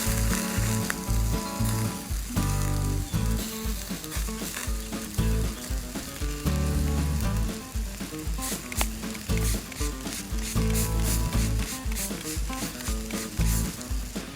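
A burger sizzles and spits loudly on a campfire grill at a bushcraft barbecue, a steady dense frying hiss running throughout with crackling pops layered on top.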